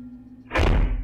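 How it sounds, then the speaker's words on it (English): A door slams shut with a single loud, heavy thud after a brief quiet moment, ringing out close by. "That door's gonna slam in it."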